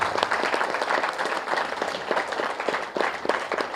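A crowd at a spiritual event claps loudly for a meditation teacher, Navakanth Master, in a sustained wash of many overlapping hands that holds steady from start to finish.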